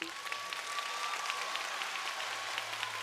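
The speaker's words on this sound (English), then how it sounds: "Round of applause for Team 9438!" A crowd at a robotics competition event at the Oregon State Fair claps for a high school team; continuous, moderately distant applause with a steady hum beneath it.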